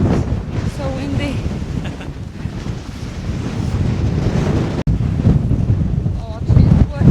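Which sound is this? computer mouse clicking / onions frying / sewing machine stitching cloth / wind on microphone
wind on microphone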